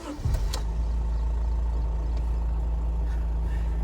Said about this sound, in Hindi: इंजन नॉइस वगैरह इस गाड़ी के अंदर